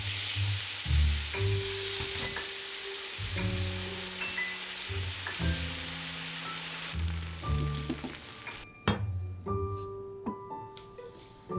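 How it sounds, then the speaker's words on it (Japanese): Food browns on both sides in a pan for a high-protein diet bento, a steady loud sizzle with occasional clinks and scrapes, broken by tonal kitchen sounds and quieter stretches near the end; no talking. "両面焼き色がついたら調味料で味付け。"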